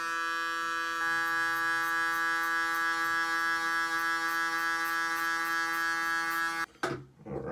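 Hair clippers set to 0.8 millimeters run with a steady close electric buzz for several seconds, then cut off abruptly, followed by a brief rustle.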